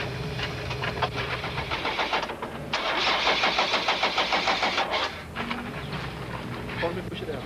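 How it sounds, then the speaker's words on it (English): The engine of a Mitsubishi Conquest rally car cranks repeatedly and splutters but fails to catch, in rough whirring bursts with a louder stretch in the middle, close and fairly loud. "the motor splutters, and no amount of cranking will persuade the Conquest to start"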